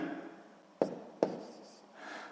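Chalk or pen on a board or paper while working a school math exercise: two sharp tapping strokes a fraction of a second apart, then a soft scratchy stroke, quiet and close.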